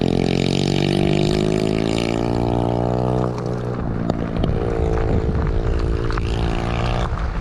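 A loud motorbike engine with a steady droning hum rises and then passes close by along the Caldon Canal, its pitch shifting midway.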